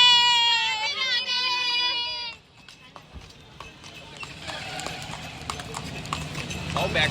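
Hooves of a horse pulling a tanga cart clip-clop in a steady rhythm during a ride in Vrindavan, mixed with street noise after a high, wavering voice fades out.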